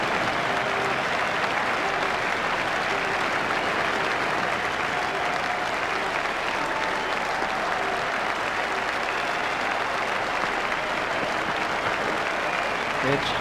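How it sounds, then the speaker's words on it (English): Steady stadium crowd applause rolls on without a break after a batsman's century in the EA Sports Cricket 2002 World Cup match, India vs Australia, with a faint tone drifting through the clapping. "The crowd are giving him a great round of applause as they appreciate the importance of this knock."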